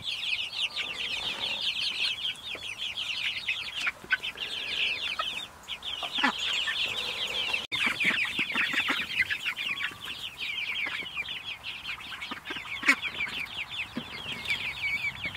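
A flock of heritage meat chickens clucks and chirps steadily and fairly close, with dense overlapping calls that never pause and no voices.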